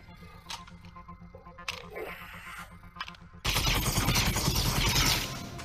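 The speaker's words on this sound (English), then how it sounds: "Get the machine gun." Machine gun fire in an Oculus Quest 2 VR game, heard as a loud sustained burst of rapid shots after a few seconds of clicks and handling noises.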